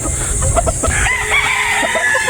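Boston breeder chickens on a poultry farm, a rooster crowing with clucks from the flock, loud and close, with several birds calling over one another.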